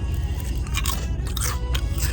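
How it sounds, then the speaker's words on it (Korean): Crisp crunching and biting of a crunchy kimchi-pancake-edge flavored snack made with real kimchi, a run of close, loud bites and chews over about two seconds with no talking. "이게 김치전 테두리 바삭함이라데 진짜 김치를 넣어서 만들었대요"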